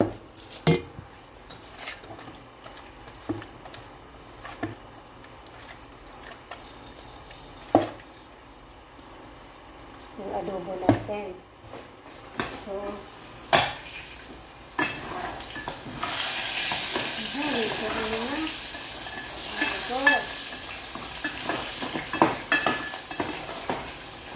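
Filipino apritada being stirred in a sizzling pan, with repeated scraping and knocking of a spoon against the metal over a continuous frying hiss that grows louder toward the end.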